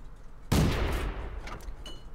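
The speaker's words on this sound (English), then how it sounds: "So you can see this is a very rapid fire gun," A single loud gun blast from the Renault UE 57 tank's rapid-fire cannon in World of Tanks, with a sharp onset and a long rumbling decay that fades over about a second and a half.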